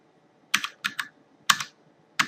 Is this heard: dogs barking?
no